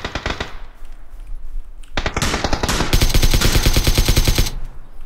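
Automatic gunfire in PUBG, with short bursts of rapid shots followed by a long, loud, sustained string of fast rounds close by that stops abruptly.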